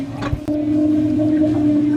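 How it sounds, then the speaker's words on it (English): A pneumatic vacuum elevator driven by air pressure, with no cables or shaft, gives a loud, steady tonal hum. A brief knock-like transient near the start is followed by a sustained whine that holds through to the end. "It's a pneumatic vacuum elevator that runs on air, no cables, no shaft, just pressure and gravity doing the work."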